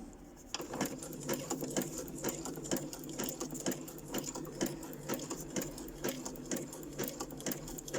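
A sewing machine stitches in steady rapid bursts while sewing embellishment clusters, pausing and resuming briefly as it back stitches near the end of a seam; a close, fairly quiet mechanical whir with no talking.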